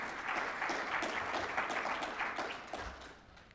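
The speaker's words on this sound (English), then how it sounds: "y'all should give Phil Goldfeder a round of applause" An audience at a policy summit keynote applauds an introduction, a dense, steady clapping that fades slightly toward the end.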